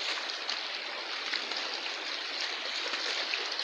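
A river stream flows with a steady, continuous rushing of water, even and close throughout with no voices.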